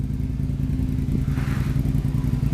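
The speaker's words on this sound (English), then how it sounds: "Just sits there all day revving it." A motorcycle engine runs close by with a steady low clattering drone and a brief rise partway through, like a light rev, with no talking.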